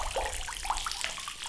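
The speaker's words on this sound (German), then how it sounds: "Das Wasser kommt über die Rinne." Rainwater runs from a house gutter into a family's drinking-water cistern in semi-arid northeastern Brazil, a steady close hiss and splash of flowing water with no voices.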